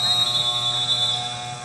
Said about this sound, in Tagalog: Buzzer na kasi wala nang oras.